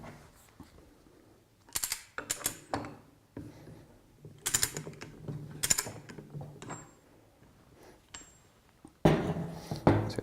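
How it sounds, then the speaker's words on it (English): Loosening the single retaining nut on a Flotronic one-nut pump, heard as a series of short metallic ratcheting clicks and clinks in quick bursts, fairly close and moderate in level, with a louder clatter of metal parts near the end. "The first item we're going to start with is undoing the one nut."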